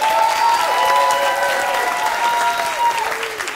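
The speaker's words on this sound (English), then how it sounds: "we want to give a round of applause one more time for our graduates" Audience applause for graduates at a middle college graduation ceremony, sustained loud clapping from a large crowd filling the whole stretch, with a voice carrying over it.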